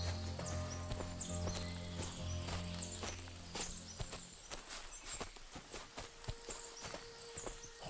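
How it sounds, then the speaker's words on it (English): Hooves clip-clop at a steady walking pace in Kingdom Come: Deliverance II, several horses moving close by over a low background hum. "Horses here, more in the stables"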